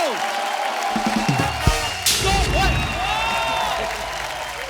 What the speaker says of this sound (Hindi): जोरदार तालियां सलमान भाई के लिए।